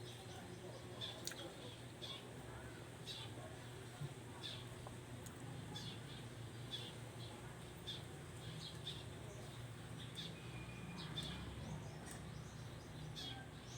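Chickens and birds in the rural countryside give faint, repeated high chirps at a distance over a low, steady outdoor background.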